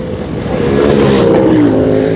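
A 2023 Honda CB500X motorcycle on a test ride gives a steady, close engine drone whose pitch climbs as the rider accelerates, with wind rush over it and no talk.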